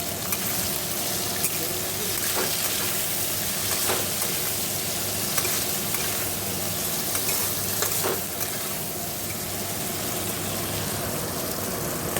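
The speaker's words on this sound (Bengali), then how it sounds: "একটু নুন হলুদ দিয়ে সবজিটা একটু ভেজে নিই" Winter vegetables frying with salt and turmeric in a home kitchen pan, a loud steady sizzle running throughout with occasional scrape and clatter of stirring, no talk.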